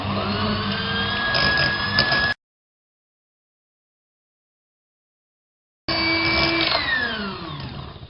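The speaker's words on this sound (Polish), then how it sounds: "Miksujemy masło." An electric hand mixer beats butter for a strawberry cream, a loud steady motor whine that cuts out abruptly, falls silent for several seconds, then starts up again and gradually shifts in pitch.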